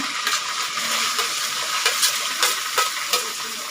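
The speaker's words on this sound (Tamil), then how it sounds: "இப்போ நம்ம வெங்காயம் சேர்த்துக்கலாங்க" Onions tipped into hot oil with ginger-garlic paste and curry leaves for an onion salna, giving a steady close sizzle and crackle with small pops and stirring clinks, no talk.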